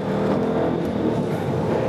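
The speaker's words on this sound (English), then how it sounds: "You can still do your own heel toe down shift. You get your rev matching." A car engine revs during a heel-toe rev-matched downshift, giving a steady, loud mechanical drone that holds through the short span with no break.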